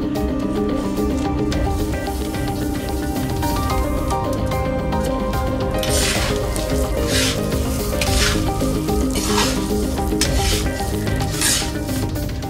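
Rice fries in melted ghee for Azerbaijani shilya plov, giving a soft sizzle with bursts of scraping and stirring in the pan over a steady tonal background.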